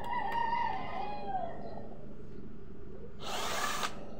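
A power drill spins out screws from the gearbox of an electric fan, giving one short, loud whirring burst near the end after a quieter stretch of background noise.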